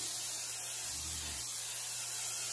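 Steady hissing cooking oil spray onto a pan heating on high, close and even, running continuously throughout with a faint low hum underneath.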